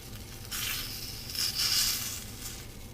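Shrimp cooking in a pan, the dish being shrimp scampi, make a soft, broad sizzle that swells in gentle waves and stays fairly quiet, with no talking.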